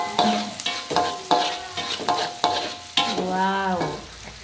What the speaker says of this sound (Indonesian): Nah, ini kita goreng dulu cabenya, bawang putihnya, bawang merahnya.